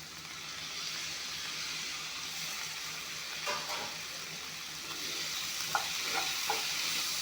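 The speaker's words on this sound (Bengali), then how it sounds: "অলপমান ভাজি ল'ম এতিয়া মুগ দালিখিনি দি দিম" Moong dal frying in a pan, giving a steady low sizzle throughout with a few faint scrapes and light taps of a spoon toward the end; no voices.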